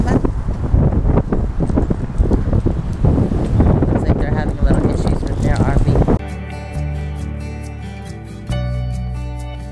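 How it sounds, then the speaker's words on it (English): Strong gusty wind roars across a microphone at the beach in North Myrtle Beach for about six seconds, then cuts abruptly to music. "God, it's so windy."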